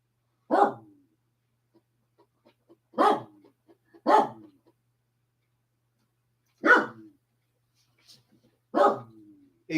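A dog barks in short single bursts, five spaced irregularly over several seconds with silence between, fairly close and clear, with no talk over the barks.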